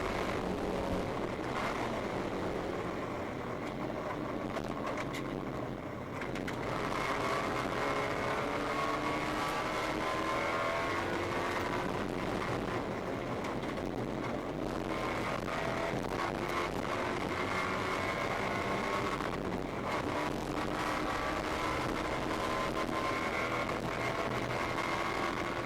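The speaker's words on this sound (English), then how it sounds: "Lots of wind noise." Constant wind noise roars inside a race car's in-car camera during an endurance series race, with a droning engine tone rising and falling beneath it for the whole stretch.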